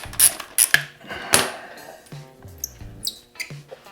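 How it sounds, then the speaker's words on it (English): A wrench works a bolt loose on a Yamaha YZ426F dirt bike, with close metallic clicks, brief squeaks and small clinks arriving in an uneven run. "Let's start removing one of those bolts."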